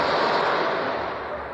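Gunfire during a nighttime shootout between police and drug traffickers in a hillside community, heard as a dense, continuous roar of blasts and rumble at steady loudness with no pauses.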